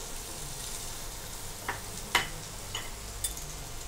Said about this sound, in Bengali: তেলের মধ্যে আদা রসুন দেয়া হচ্ছে